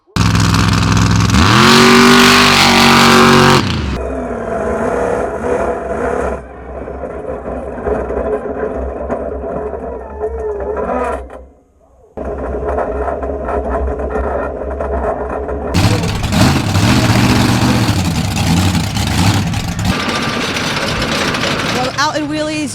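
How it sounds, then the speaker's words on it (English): Monster truck engines roar and rev loudly at a 2018 Monster Truck Throwdown racing event in Edmonton, a heavy sustained drone that dips briefly midway before surging back, with a voice talking over it. "now we're on to some monster truck racing"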